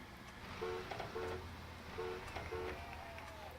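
Game train crossing a bridge in Bridge Project, a low rumbling rolling drone with repeated short horn-like toots over steady mechanical noise, moderately loud throughout.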